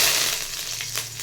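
Hot oil sizzles as tempering spices go in for a Mangalorean breakfast dish, a brief close hiss with a few crackles and pops.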